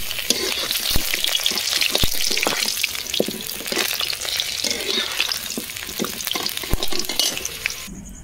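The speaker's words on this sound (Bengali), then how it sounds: "তো চলো তারপর আমি মাংসের আলুগুলো ভেজে নিচ্ছি।" Potatoes for a chicken curry frying in hot oil, a loud continuous crackling sizzle close up, with occasional knocks of a utensil against the pan.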